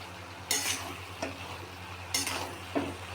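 Cabbage and peanut curry stirred in a pan, with a few short scraping strokes of a spoon at irregular intervals over a low steady background hum, quiet and close, with no talking.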